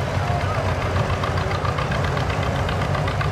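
Allis-Chalmers tractors rolling past in a small-town parade, a steady low engine rumble with a knocking, idling chug that holds at a constant level throughout, close by.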